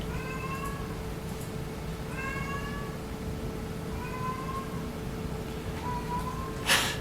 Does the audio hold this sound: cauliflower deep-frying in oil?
no